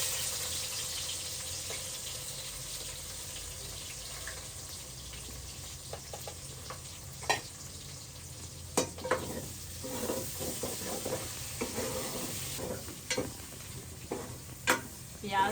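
Onion fries in a pan in a village kitchen, a continuous close sizzle with stirring scrapes and scattered utensil clicks that grow busier toward the end.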